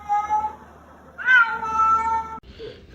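A domestic cat meows several times up close: a faint cry, then a long, loud, drawn-out meow, then a shorter one at the end, with no talking.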